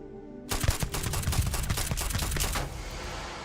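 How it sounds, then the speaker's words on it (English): Rapid automatic gunfire in Starfield, a dense close burst of shots starting abruptly and running for about two seconds before trailing off, no talk. "Shoot him in the back of the head."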